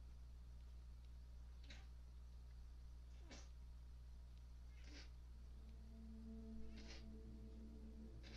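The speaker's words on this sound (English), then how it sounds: "Sorry if you can hear my kitten." A kitten with an upper respiratory infection makes faint, congested snuffling breaths and small cat sounds at a slow, regular pace, heard quietly behind a steady background hum.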